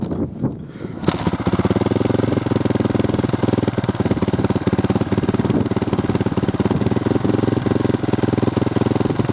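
A kickstarted motorcycle engine idles roughly after catching about a second in. It makes a loud, close, pulsing chug that continues unevenly to the end with no talk over it.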